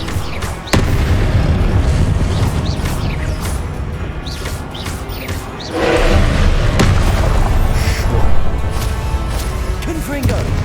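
Confringo explosion spells fired in the video game Hogwarts Legacy, a dense run of booming blasts and crashing impacts layered over game music and effects, loud throughout, with a heavier burst about midway.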